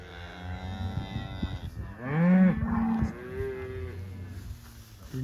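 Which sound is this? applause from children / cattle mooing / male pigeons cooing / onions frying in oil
cattle mooing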